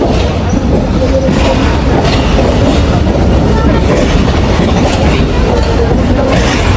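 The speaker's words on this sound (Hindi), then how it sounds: "तो ये हमारी ट्रेन का यहाँ पर दूसरा स्टॉप है।" A passenger train, the 1 Up Khyber Mail of Pakistan Railways between Lahore and Peshawar, rolls steadily along the rails near Wazirabad Junction with a loud, continuous rumble and faint clickety-clack, on a rainy day, with no talk.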